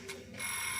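A laboratory sterilizer's timer being set gives a faint mechanical ticking or ringing, shifting into a steady high-pitched tone that continues to the end.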